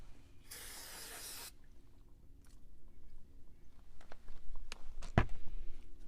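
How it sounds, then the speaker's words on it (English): Carb cleaner sprayed onto a BMW double VANOS unit from an M54/M52tu engine, one steady hiss of about a second, followed by quieter handling clicks and a sharp knock near the end. "we'll take a little carb cleaner and we'll spray it out"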